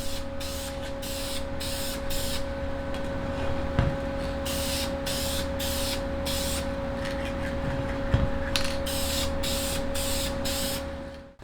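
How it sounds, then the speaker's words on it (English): Silver spray paint hissing from an aerosol can onto the separated halves of a motorcycle wheel, steady bursts of spray repeating in short rhythmic passes close by, with a constant hum underneath. "I'm just going to use a silver spray paint."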